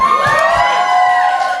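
Comedy club audience cheering and whooping at a live stand-up night, a loud, sustained burst of crowd noise with no talk over it.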